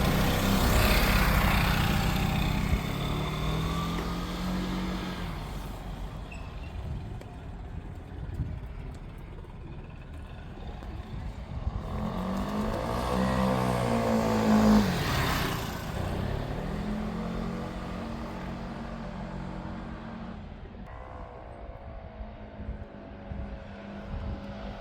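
A small Piaggio Liberty scooter engine drones and whines at full-throttle high revs, rising and falling in pitch as it passes near, loud and continuous throughout.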